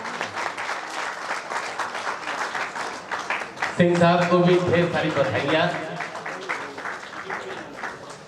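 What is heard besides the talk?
audience applause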